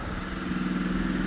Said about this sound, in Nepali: बाइक स्टार्ट हुँदैछ, कोल्ड स्टार्ट हुँदैछ।